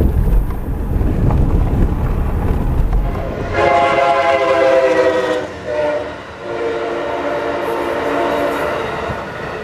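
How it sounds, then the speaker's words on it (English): A train rolls past a crossing along old Route 66 in Illinois, with a steady rumble of wheels that swells into a long, loud, harmonically rich horn blast. The horn dips briefly, then sounds again and holds to the end. "So the sounds of a train are a part of the early Route 66 experience."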